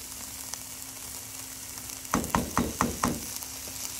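Peppers and onions fry in a pan with harissa, giving a steady soft sizzle beneath a quick run of five sharp, evenly spaced taps, like a spoon striking the pan.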